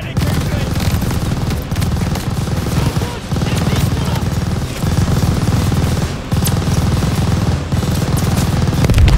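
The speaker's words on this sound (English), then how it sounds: "I'm loading on the MG!" A machine gun hammers away continuously in a Call of Duty battle, dense and loud from start to finish, with a few brief gaps between long bursts and voices shouting faintly in the mix.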